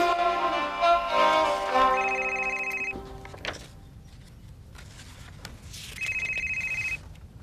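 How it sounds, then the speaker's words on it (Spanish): A telephone rings in a house with a repeating electronic trill in two separate bursts, the first mixed with music and the second standing alone after a quieter gap. "¿Por qué no contestas al teléfono?"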